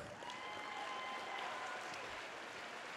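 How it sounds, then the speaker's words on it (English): Audience applause at a fine arts academy performance, a short steady burst of many hands clapping at a moderate distance, fairly quiet overall. "I said a round of applause for yourself."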